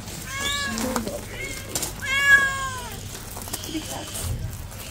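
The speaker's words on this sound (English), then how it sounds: "And in here we have cats, regular domestic cats." Regular domestic cats meow at a wildlife sanctuary in Lagos, Nigeria, with several drawn-out, rising and falling calls close by, one especially loud, and a person speaking faintly in the background.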